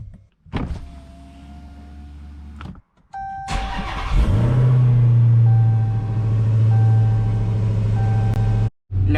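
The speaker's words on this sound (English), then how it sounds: "Let's get a cold start real quick." A G80 car's engine cold-starts with a loud burst, then settles into a steady, deep, rumbling idle that runs to the end, with a few mechanical clicks and a whine before the start.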